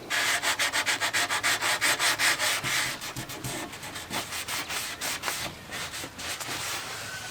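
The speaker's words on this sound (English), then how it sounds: "I may have to go back in there with some sandpaper, sand it down, and stain it again" Sandpaper rubbing over glued wooden door joints on a 1930s farmhouse renovation, rapid rhythmic back-and-forth strokes, loud and close at first and then looser and more irregular, with no talking.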